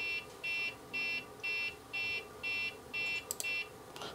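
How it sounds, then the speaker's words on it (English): A Ford VCM diagnostic interface beeps eight times in a steady, evenly spaced rhythm, each tone short and buzzy against a quiet background. "If it's successful, you'll hear the device make a beep."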